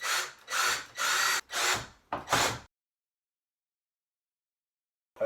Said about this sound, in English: I'm going to drill some pilot holes on the drywall